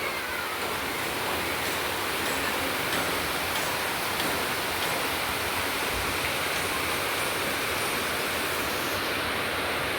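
Steady, dense rain falls throughout, a continuous broadband hiss with no pauses or voices.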